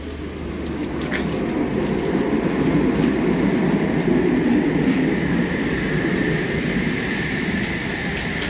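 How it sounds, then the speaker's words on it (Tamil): A Sydney commuter train pulls into an old-style station on the Redfern to Helensburgh line, a steady near rumble of wheels and carriages filling the whole stretch with a faint high squeal riding above, no talk over it. "பாருங்க, இதில் இன்னொரு ட்ரெயின் வருது."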